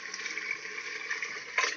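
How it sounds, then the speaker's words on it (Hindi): Yakhni broth being poured into a pan of frying Lahori paya masala, a steady rushing, sizzling liquid pour that swells briefly louder near the end, with no talk. "इसके ऊपर यखनी डाल रही हूँ"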